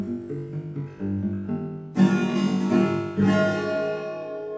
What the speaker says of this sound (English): Says that the room is really large, so we can actually hear the individual reflections